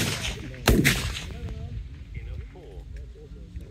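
A single sharp rifle shot from a 6.5 PRC wildcat during seating-depth testing cracks out early and fades quickly into a soft outdoor background. Faint voices are heard afterward.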